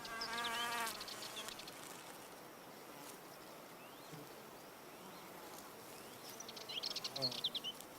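A male wasp buzzes around an orchid flower while trying to mate with it, a close, steady insect drone that swells louder at the start and again near the end.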